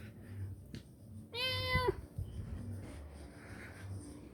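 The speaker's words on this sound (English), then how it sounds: "But then the crazy cat, look, there he is over there." A dark-coated female cat gives one clear, drawn-out meow at moderate distance over quiet indoor background noise.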